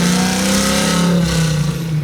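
Supercharged LS9 V8 in a 1967 Chevy Nova rumbling loudly and steadily up close, a throaty engine drone held without pause.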